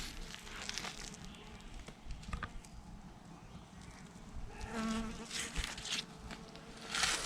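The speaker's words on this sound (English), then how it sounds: "I want you to look at the honeybees. Come listen to them." Honeybees buzzing around electroculture cucumber plants grown without fertilizer outdoors, a steady, diffuse drone of many insects with individual wingbeats swelling close by now and then.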